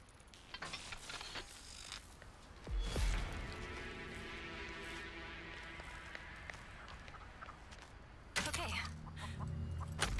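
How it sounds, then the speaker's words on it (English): In The Texas Chainsaw Massacre video game, a chicken clucks in a steady run of faint, rapid calls under game noise, with a louder thump early and a burst of scuffling toward the end. "There's a fucking chicken there too."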